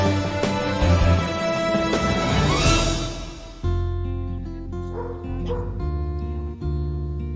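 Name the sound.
Portuguese water dog barking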